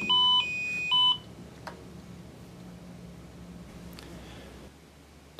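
Electronic beeps from a solar wireless receiver: two short loud tonal beeps in quick succession at the start, followed by quiet background with faint clicks.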